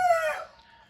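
A rooster in a backyard chicken flock crows nearby, a single loud, bright call that falls off and fades within a second, with no talk.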